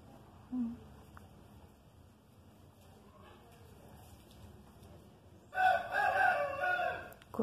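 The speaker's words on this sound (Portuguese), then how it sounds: "Começou o galo." A rooster crows loudly nearby in one long, harsh call near the end, following a quiet room with faint background sounds.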